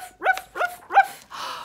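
A voice imitates a dog's bark, three rhythmic sung "roof" barks in a row followed by a breathier fourth, close and clear, in a musical children's book reading.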